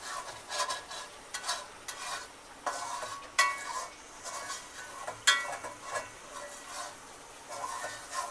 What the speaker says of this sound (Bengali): মশলাটা এখন ভালো মতো কষানো হচ্ছে